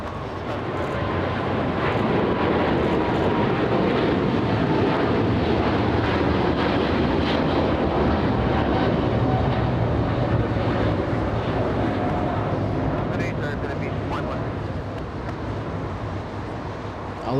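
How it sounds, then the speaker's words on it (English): A Philippine Airlines Boeing 777 airliner rumbles loudly and continuously at LAX, a broad engine roar mixed with wind buffeting on the microphone, fading slightly toward the end. "we're going to go for the 777 Philippine Airlines"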